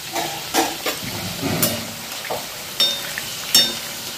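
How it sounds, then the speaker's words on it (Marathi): Karanji pastries fry in hot oil on a stove, with a gentle steady sizzle broken by occasional louder spits and soft clinks nearby. "करंज्या तेलामध्ये तळून घ्यायच्या"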